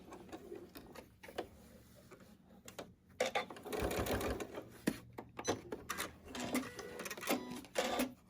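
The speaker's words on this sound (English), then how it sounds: "We'll sew off at an angle." Home sewing machine stitching binding onto a fiber arts hot pad, its motor whirring in bursts of fast needle thumps that stop and start, heard close with no talk.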